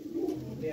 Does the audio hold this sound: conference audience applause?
no